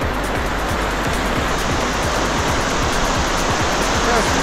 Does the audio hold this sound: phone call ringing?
no